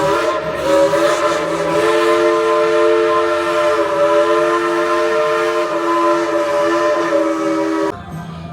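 A train's sustained horn blares loudly and steadily for several seconds with a rumbling undertone, then cuts off abruptly, at the Dollywood theme park.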